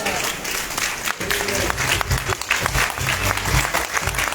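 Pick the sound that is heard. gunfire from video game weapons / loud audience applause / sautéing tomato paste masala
loud audience applause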